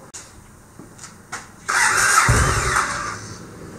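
A rebuilt starter motor from a Yamaha XV1700 Warrior motorcycle whirs up and spins steadily for about a second and a half, loud and close, after a few light clicks and taps, then winds down.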